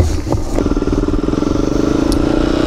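A cold ATV quad engine idles at an off-road park, a loud, close, steady rumbling putter with slight clattering and no change in pace, heard alone without voices.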